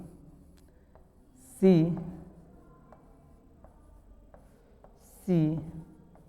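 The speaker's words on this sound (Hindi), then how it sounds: "जैसे मैं आपके सामने एक सेंटेंस लिख दूं" A sentence is written on a board during a lesson, giving faint, scattered scratches and light taps, with two short bursts of a voice.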